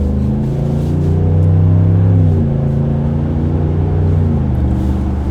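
A RAM 1500 with a HEMI V8 and an MBRP 3-inch high-flow muffler accelerates on the road, a steady deep exhaust rumble that swells in the middle and holds loud throughout, with no talking.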